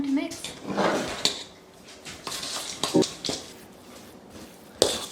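Keto chocolate chip cookie dough being mixed in a single bowl, with a spoon or spatula clinking and scraping against the sides in irregular knocks and scrapes, close by, with brief voice sounds in between.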